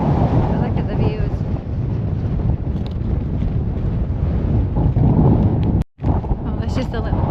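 Strong, gusty wind roars continuously across the microphone on top of Cairngorm, a Scottish mountain summit, loud and unbroken except for one brief dropout near the end.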